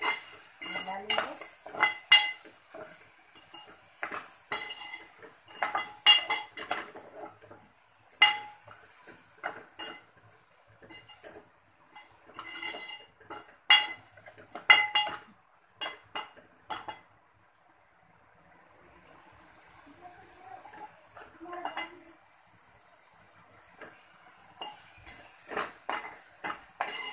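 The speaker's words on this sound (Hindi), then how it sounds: "इन सब चीज़ों को हम प्याज में अच्छी तरह से मिला लेंगे।" A utensil stirs chili powder and turmeric into onions in a pan, giving repeated scraping and clinking strokes with faint sizzling between them. The strokes come in bursts with short pauses.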